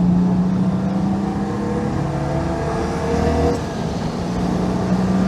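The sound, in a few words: Citroen 2CV driving on its new engine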